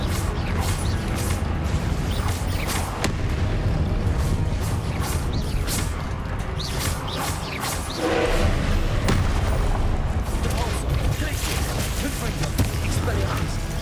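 Rapid magic spells from the Hogwarts Legacy video game strike an enemy in a steady stream of booms, crashes and whooshes, all loud and layered over constant battle noise and music.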